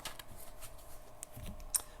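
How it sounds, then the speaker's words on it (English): A very large combined tarot deck is shuffled, giving soft rapid papery riffles and flicks with a few sharper snaps, faint and close over a quiet background. "I have combined both decks, which is why it's so massive. And it's so hard to shuffle."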